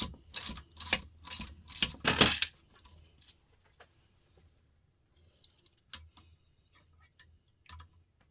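A ratchet driving a chrome Vandam socket on a pump gives a close, rapid run of ratcheting clicks for about two seconds. A few sparse, isolated ticks follow in near silence.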